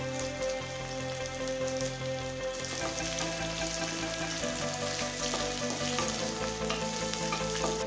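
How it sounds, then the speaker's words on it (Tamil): Small shallots and garlic cloves fry in oil, a continuous, even sizzle like steady rain, heard close beneath a layer of background music with no talking. "இப்போ சின்ன வெங்காயம் நல்லா வதங்கிடுச்சுங்க"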